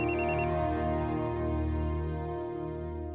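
A telephone rings in a domestic TV-drama scene, a short electronic ring pattern heard in the first half-second over a steady musical background bed.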